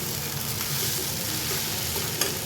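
Crushed potatoes go into a pan of frying garlic, chili and turmeric, giving a steady close sizzle with soft stirring scrapes throughout and no voices.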